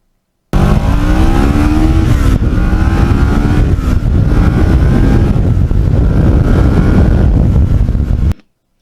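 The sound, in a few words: custom Kawasaki Ninja motorcycle engine going through gears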